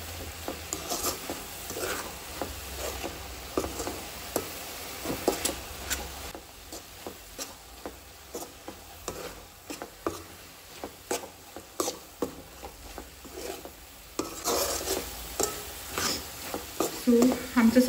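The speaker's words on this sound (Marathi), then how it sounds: "सगळें मिक्स करून घेवया" Masala being stirred in a frying pan for a home-cooked prawn curry, with a rhythmic series of spatula scrapes and taps over a soft sizzle, close and steady, briefly quieter midway.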